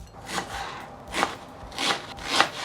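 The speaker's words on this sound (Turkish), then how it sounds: "Soğanlarımızı keseceğiz." Onions chopped with a knife on a cutting board while cooking an iftar meal; four dull, evenly spaced strokes, close and moderately loud, with no talking.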